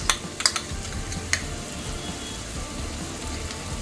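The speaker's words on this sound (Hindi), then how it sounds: "1 टेबलस्पून भरकर मैं इसमें अदरक लहसुन का पेस्ट ऐड कर रही हूँ।" Mutton keema cooks in a pan with ginger garlic paste just added, giving a soft continuous sizzle and a few sharp clicks of stirring near the start, with no talk.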